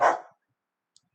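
A single loud dog bark at the start, then silence apart from a tiny faint click near the end.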